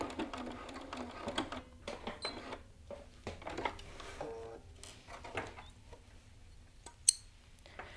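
Sewing machine stitching a garment side seam with a short back tack, a faint stop-start mechanical chatter of short bursts mixed with small clicks and handling noises, and no talk.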